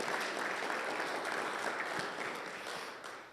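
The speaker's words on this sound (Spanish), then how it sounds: "Dale un aplauso a Jesús en esta mañana" A church congregation applauds during a Sunday morning service, a dense, even wash of many hands clapping that stays steady and tapers slightly toward the end.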